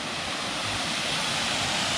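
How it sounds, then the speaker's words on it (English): A waterfall in the Yorkshire Dales roars in a dense, unbroken rush of water, loud and steady with no voices, during stormy, windy weather. "we're just gonna see if we can have a look at this waterfall."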